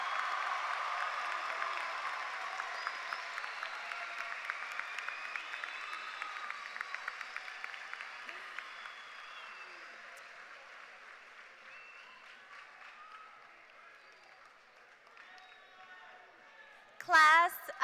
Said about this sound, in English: Let's do one more round of applause for our phenomenal class of 2022